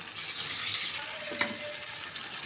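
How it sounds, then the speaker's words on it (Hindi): Water poured from a glass into a pot of chicken nihari cooking on the stove, a continuous hissing, sizzling pour at moderate level with a brief splash midway. "मैं इसमें मज़ीद 2 गिलास पानी और ऐड कर देती हूँ।"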